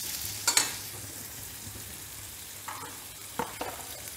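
Vegetables sauté in oil in a pan for a hyacinth bean curry, giving a soft steady frying hiss with a few short utensil scrapes and taps, fairly faint and without speech.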